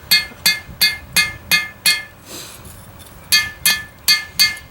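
Bright metallic hammer blows forge a taper toward the blade of a hand-forged carving knife, with about six evenly spaced ringing strikes, a short pause, then four more in the same steady rhythm, close and loud.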